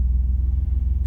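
A 1985 BMW 635CSi with a manual gearbox idles in neutral, giving a steady, smooth low rumble heard close and alone.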